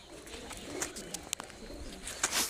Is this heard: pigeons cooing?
yes